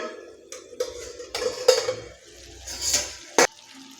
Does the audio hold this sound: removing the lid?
yes